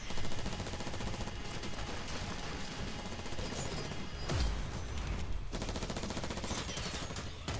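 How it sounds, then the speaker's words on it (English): Rapid, continuous gunfire from an animated Death Battle fight, dense bursts of shots that run unbroken and loud throughout, with a heavier impact crash partway through. "The bullets are not effective and you keep firing."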